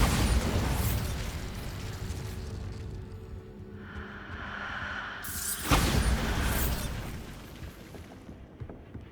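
A Bombarda blasting spell goes off in a Harry Potter video game, a loud broadband burst and boom with whooshing tails, one strong hit followed by a second crackling blast amid game ambience.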